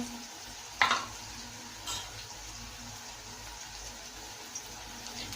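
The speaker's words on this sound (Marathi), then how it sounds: "2 मिनिटापर्यंत मिरची व कांदे तेलावर परतवून घ्या" Green chilies and onions frying in oil over medium heat in a pan: a faint, steady sizzle with one sharp scrape or clink near the start and a softer knock a second later, no talking.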